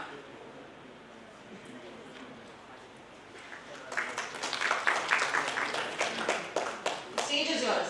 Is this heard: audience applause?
yes